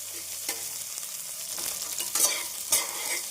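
Onions sizzle in hot ghee, with a steady frying hiss and occasional scraping stirs and louder crackles.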